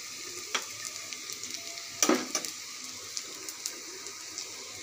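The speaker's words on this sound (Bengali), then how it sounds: "এখন আমি পেঁয়াজ রসুন দিয়ে দিচ্ছি। পেঁয়াজগুলোকে আমি হালকা লাল লাল করে ভেজে নেব।" Onion and garlic fry in hot oil for a Bengali dried-fish and bottle-gourd-leaf dish, giving a steady close sizzle with light stirring clicks and a sharper crackling burst partway through.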